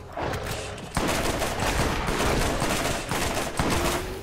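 Rapid, continuous assault rifle fire from Borderlands, a dense unbroken stream of loud, close shots lasting a few seconds with slight surges.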